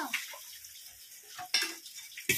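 Water poured into a pot of pea and potato curry, a few short splashes and pours mixed with clinks of a utensil against the metal pot, close and fairly quiet, no talk.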